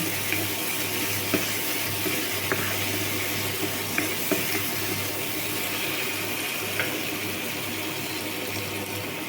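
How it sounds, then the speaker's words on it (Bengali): Water is poured into a cooking pan of spice mixture for a stinging catfish (shing fish) curry, making a steady, close rushing sound with faint crackles that lasts throughout. "একটু পানি দিলাম"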